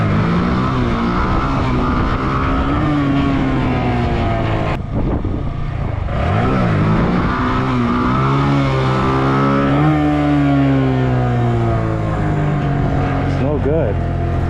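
A motorcycle engine revs repeatedly during wheelie practice, its pitch rising and falling in close, loud surges with a steady idle drone between them.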